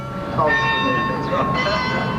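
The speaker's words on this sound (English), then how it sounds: "The bell tolling for me." A bell tolls with sustained ringing tones that swell with each strike, close and fairly loud, while a voice speaks underneath.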